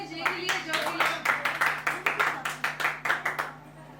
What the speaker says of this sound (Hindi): प्लीज तालियां हो जाए जय के लिए